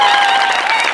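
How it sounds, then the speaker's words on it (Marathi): Sustained, dense applause from a large audience at a Maharashtrian comedy show award ceremony, steady and loud throughout with no pauses. "प्रचंड टाळ्या"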